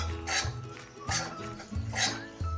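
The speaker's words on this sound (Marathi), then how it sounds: "अजिबात कलर न बदलू देता हे खोबरं आपण सतत हलवून भाजून घ्यायचं आहे।" Dry grated coconut is roasted in a pan without ghee and stirred constantly, giving rhythmic scraping strokes of a spatula against metal, about three sweeps, close and clear.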